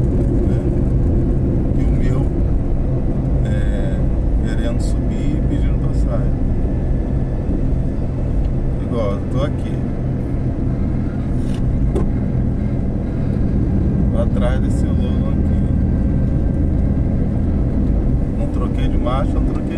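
A hatchback's engine hums steadily and loud from inside the cabin while driving, continuous road and motor drone throughout with people talking over it.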